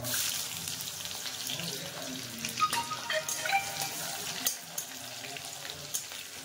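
Chilli and cumin crackle and fry in hot oil in a kadai, a busy close hiss with scattered pops and stirring scrapes, fairly loud throughout with no clear voice.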